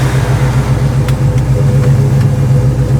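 Vintage Air air conditioning blowing ice cold inside a 1970 Chevrolet Chevelle SS-style car, a loud steady rushing whoosh with a low hum underneath, constant and close throughout.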